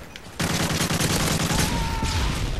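Sudden onset of loud, dense automatic gunfire in a first-person shooter video game, sustained rapid bursts at close range with explosions rumbling underneath.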